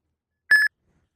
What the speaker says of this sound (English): Your phone will start beeping,